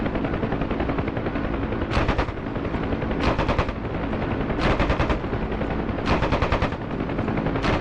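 Repeated bursts of machine-gun fire from a Huey helicopter in the flight sim DCS, four rapid rattling volleys spaced a second or so apart over a steady rotor and engine drone.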